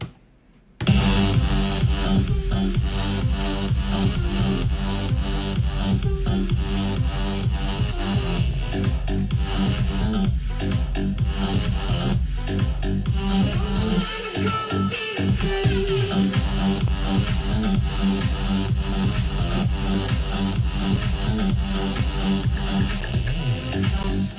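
A dense electronic dance track plays loudly and steadily, with a punchy kick and heavy bass driving under bright synths, starting abruptly after a brief silence.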